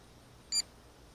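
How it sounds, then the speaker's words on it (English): A JJRC X6 Aircus brushless GPS drone gives a single short, high electronic beep as it begins returning home, sounding alone against a faint quiet background. "Started to beep to tell me it's coming home."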